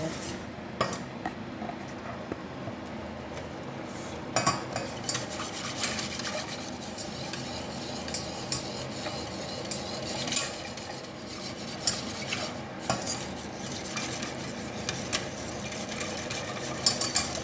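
A spoon or whisk stirs homemade béchamel sauce of flour and butter in a pan, scraping and rubbing steadily around the edges, with soft metallic clinks and scratches repeating close up throughout.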